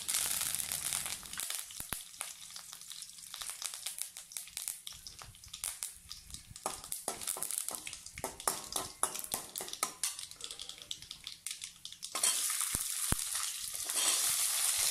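Curry leaves and dried red chillies crackle and sizzle in hot oil close up, with sharp pops and spitting bursts over a softer fry and a louder surge of sizzling toward the end.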